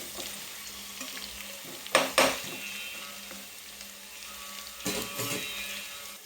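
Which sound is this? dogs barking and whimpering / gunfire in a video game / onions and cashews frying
onions and cashews frying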